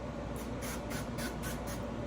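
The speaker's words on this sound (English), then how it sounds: "Spray it with a little bit of avocado oil." Several short, close bursts of avocado oil spray onto a griddle, about five quick hissing puffs in steady rhythm over a constant background hum.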